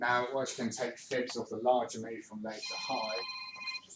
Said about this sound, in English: I thought it was a phone from me.